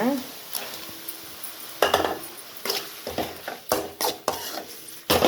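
Clattering pan and utensil noises as chicken is tipped in and stirred, with scraping bursts and a faint sizzle underneath.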